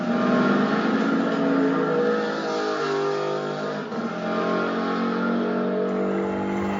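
A Hot Wheels Mercedes AMG toy car rolls down the track in an endurance-series qualifying run. It makes a steady, fairly loud rumbling roar for the whole stretch, with a slight dip near the middle.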